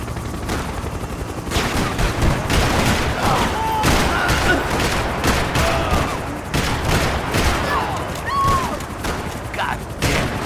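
Rifle gunfire in the video game Max Payne 3, with rapid repeated shots and bursts booming over a dense, loud action scene, while voices shout through the chaos.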